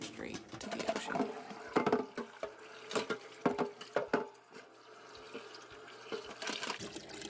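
Water runs from a tap in irregular bursts while freshly caught crabs are rinsed and shaken, the splashing rising and falling under a speaking voice.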